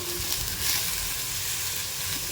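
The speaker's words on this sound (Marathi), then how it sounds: "गवार छान परतून घ्यायचे आहे" Cluster beans sauté in a hot pan for a spicy thecha, giving off a loud, continuous hiss and sizzle with faint stirring beneath it and no talking.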